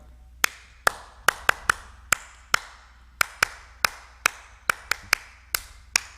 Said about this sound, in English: It starts out with clapping.